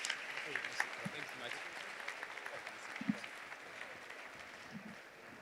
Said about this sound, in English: a big round of applause for EthicHub